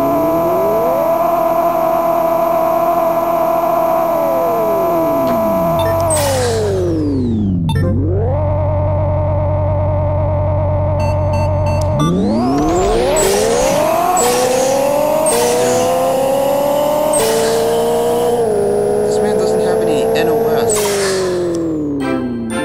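A race car engine in the video game Pixel Car Racer revs loudly and continuously, pitch climbing and dropping through gear changes with whining, synthetic-sounding tones that fill the whole stretch, no voices.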